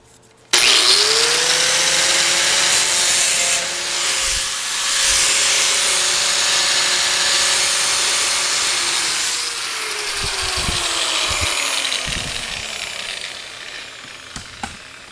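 A power tool starts abruptly and runs loud and steady for a long cut across sheet metal, its tone sagging slightly near the end before it winds down and a few light knocks follow.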